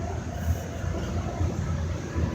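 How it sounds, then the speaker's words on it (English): Boston Green Line subway train running underground near Boston Common, a steady low rumble with rhythmic thumps of wheels over rail joints, continuous and fairly close, with no talking. "we are running the first line of the Green Line"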